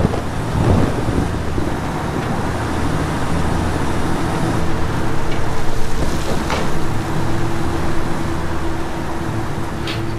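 A truck in a video game drives steadily with a continuous low engine rumble and broad road and wind noise, holding at an even loudness throughout.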